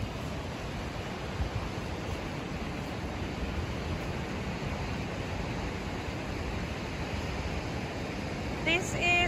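Ocean surf at Mudfish Bay in Denmark, Western Australia, a steady broadband wash of waves with some wind across the microphone, continuous and fairly loud with no talk.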